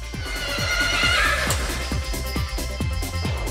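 A horse whinnies repeatedly in a stable at Schiphol airport before being flown to Miami. The calls are loud and close, with a steady background hum underneath and no talking.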